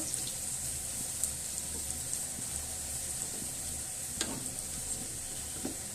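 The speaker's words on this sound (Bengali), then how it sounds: "এরপর হালকা একটু ভেজে নেব।" Spices and onion fry gently in a pan, a faint continuous sizzle with a few soft clicks and light stirring sounds.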